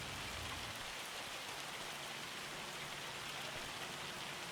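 Steady rain, with hail mixed in, pours down on a farm in Farming Simulator 25, a dense, continuous hiss of drops drumming on surfaces with no talk over it.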